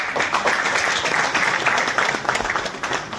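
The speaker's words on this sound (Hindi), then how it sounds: "एक बार जोरदार तालियां," A crowd claps together at an agricultural meeting in Kaithal about stubble burning: dense, steady applause that fills the whole stretch at moderate loudness, with no pauses.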